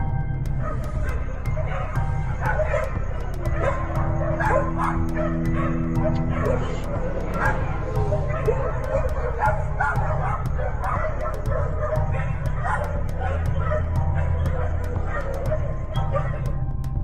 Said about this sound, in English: He heard dogs in the area barking non-stop.